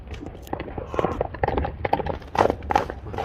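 A horse's hooves clip-clop in quick irregular beats at a horse sale, close and fairly loud, with someone talking over them.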